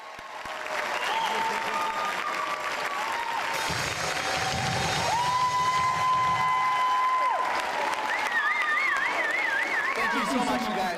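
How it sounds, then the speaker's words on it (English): A crowd gives sustained applause for a school stage band at a district teacher-of-the-year celebration, a steady wash of clapping that holds for about eleven seconds, with musical tones sounding over it. "Let's give another round of applause to the Diamond Ridge Stage Band."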